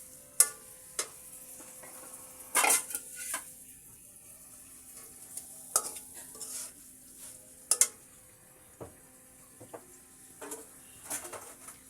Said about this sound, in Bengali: ইলিশ মাছের মাথা এবং লেজ দিয়ে আমি এখন ভালোভাবে একটু ভুনা করে নিচ্ছি